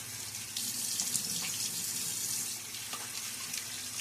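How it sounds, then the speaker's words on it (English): Tap water runs and splashes steadily into a sink during a wet shave with a Gillette safety razor, a continuous hiss with a few small splashes, close and fairly loud. "A little splash of water."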